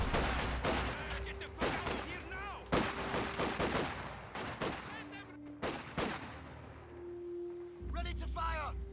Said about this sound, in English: MG42 spam going in the forest.